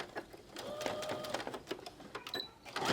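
A sewing machine running a straight stitch with a standard foot during appliqué work, giving a short, quiet mechanical whirring burst with small clicks.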